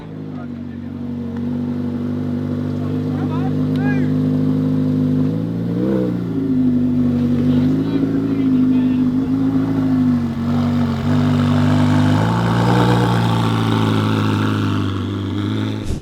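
A McLaren 720S engine revs with a loud, steady, close drone that rises and dips in pitch over several seconds, with people talking over it.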